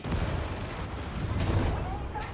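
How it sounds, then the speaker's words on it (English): A grenade explodes in the video game Darktide, a loud, sustained, low, rumbling boom that rolls on without a break. "With this grenade, I purge thee."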